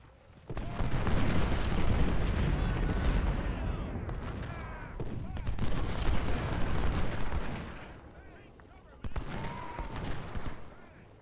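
Skirmishers fire rifles in a Civil War battle game set at Second Winchester, producing dense, continuous volleys of gunfire with booming reports and short breaks between bursts.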